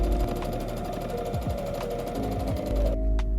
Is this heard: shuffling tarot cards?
no